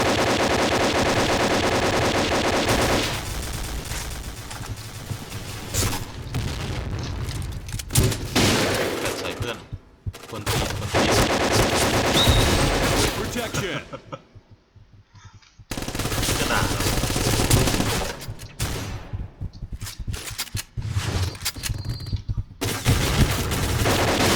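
AK-12 rifle fire in the video game Point Blank, loud sustained automatic bursts with rapid repeated shots, broken by a couple of short pauses and one longer near-silent gap.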